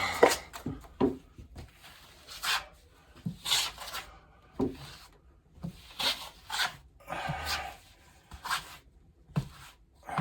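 A drywall knife spreads and scrapes joint compound into a wall corner, giving repeated close, rasping strokes in an uneven rhythm with short pauses between passes.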